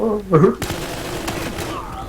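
Rapid gunfire in Battlefield Hardline heist mode, a burst of close shots following a brief loud shout, with a voice speaking over the shooting.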